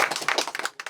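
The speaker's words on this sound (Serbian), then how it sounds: "Aplauz za Kalinu" Audience clapping for Kalina at a Mensa brain-adventure event, a short run of distinct, uneven hand claps close by.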